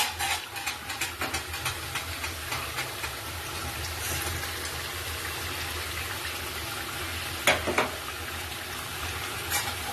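Fish frying in a pan for a fish curry, a steady dense sizzle and spatter with occasional sharper crackles and pops, close and continuous with no talk.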